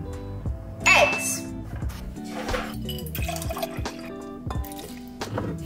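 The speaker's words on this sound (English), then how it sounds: "We're doing my olive oil." Olive oil is poured from a bottle into a measuring cup for a recipe, making a soft liquid gurgle and trickle with a few clinks of glass and kitchen handling. Someone speaks briefly nearby.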